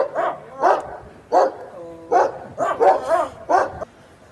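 Dogs kept at the Nanaksar gurdwara in Nairobi, Kenya, bark near and loud in a series of about eight sharp barks, some doubled, with brief pauses between them.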